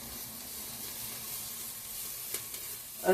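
Leczo sizzling in a Tefal Cook4me pot, a steady broadband frying hiss throughout with a few faint scrapes of stirring near the end.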